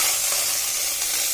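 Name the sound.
pomegranate pudding mixture poured into a pan on low flame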